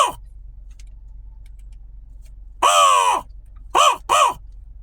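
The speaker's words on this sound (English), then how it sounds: "you'll also hear structured calls like," After a few seconds of quiet background hum, a crow gives one long, drawn-out caw followed by two shorter, clipped caws in quick succession, close and loud.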